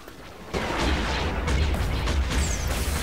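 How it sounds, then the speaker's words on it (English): Missile pods fire in the Star Wars Republic at War strategy game, a sudden loud burst followed by dense rumbling explosions and crackling impacts lasting a few seconds. "those missile pods got them"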